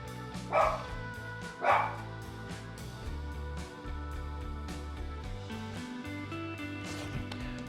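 A dog gives two sharp barks early on, then quieter whines and yips follow over a low droning background.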